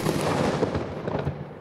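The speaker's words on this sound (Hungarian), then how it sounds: "hogy január 1-én délben a várból díszlövésekkel köszöntik az új esztendőt" A ceremonial New Year's Day salute is fired at noon from the castle in Gyula, using replica period firearms and two cannons; loud, rapid bangs and booms overlap into a dense crackling burst.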